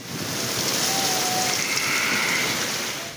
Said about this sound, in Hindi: 2 घंटे की तूफानी बारिश ने शहर को डुबो दिया।